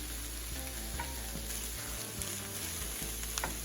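Broccoli and celery sizzle in a hot pan, a steady dense frying hiss with faint crackles and a few soft stirring scrapes, close and continuous with no talking.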